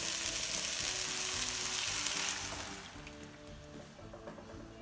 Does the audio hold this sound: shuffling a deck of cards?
no